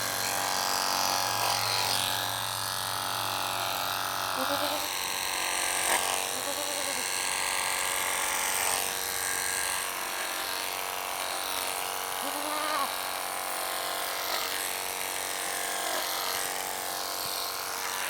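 Electric clippers buzz steadily while grooming a market goat, a continuous close mechanical whir with slight pitch wavers as the blades move through the coat, running throughout with no talk.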